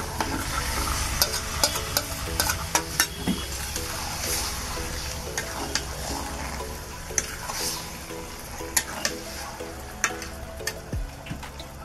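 Meat marinated in oil, nuts and lemon juice goes into sizzling fried spice paste, a moderate hiss broken by sharp utensil clicks and clinks, with faint tonal sound in the background.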